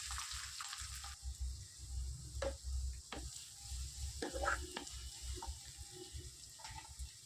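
Curry leaves and sliced onions fry in hot oil for a chicken liver fry, giving a steady soft sizzle with occasional clinks and stirring knocks from a utensil against the pan.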